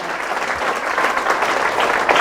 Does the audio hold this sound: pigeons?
no